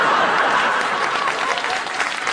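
A studio audience at a late-night talk show breaks into dense, sustained applause, many hands clapping at once with no voices on top.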